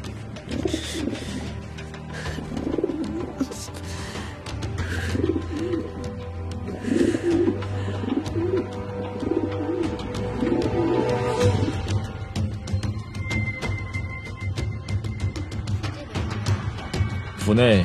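Pigeons coo in a repeated, soft, throaty rhythm across the whole stretch, with a steady low background hum beneath them.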